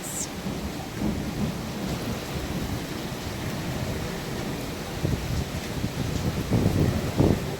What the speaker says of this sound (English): Yep. That's hail. This is that storm I was just telling you about.